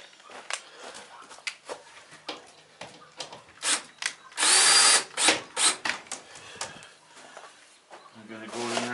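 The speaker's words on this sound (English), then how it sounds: "Okay, so drill." Short bursts of a power drill running outdoors, one sustained louder stretch in the middle, with a person talking between the bursts and faint bird sounds in the background.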